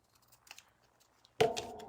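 A single crisp snip of scissors trimming scrapbook paper around a photo, near and loud after faint handling rustles, with a brief rustling tail.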